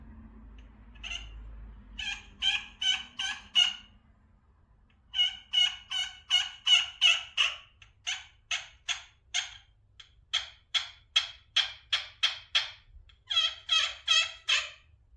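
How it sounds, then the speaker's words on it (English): A homemade turkey pot call yelps in quick series of sharp, raspy notes, several bursts of four to eight yelps with short pauses between, close and clear with no talk. "I don't love the way the yelping sounds on it."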